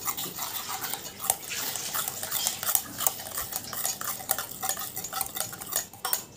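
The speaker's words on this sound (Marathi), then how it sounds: "आपण ह्याला व्हिप करूया" A whisk beats a butterscotch-flavoured homemade ice cream mixture in a bowl with quick, continuous scraping and clinking strokes, close and steady with no talking.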